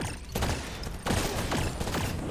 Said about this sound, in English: Yes, explosion, cool stuff,